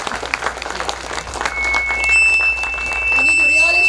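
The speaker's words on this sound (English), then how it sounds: "Very big round of applause." Applause from an audience at a school annual day function, rising from scattered claps to a fuller, steady round, with a whistle-like tone and voices underneath.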